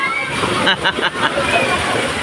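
Strong floodwater in Montalban rushes and sloshes loudly nearby, a churning wash of splashing water while people talk and call out over it.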